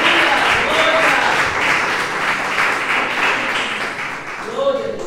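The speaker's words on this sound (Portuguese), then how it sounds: "aplauda al Señor y de gloria." A church congregation applauds and cheers at a Spanish-language evangelical service, a dense wash of clapping that rises again at the end, with voices mixed in.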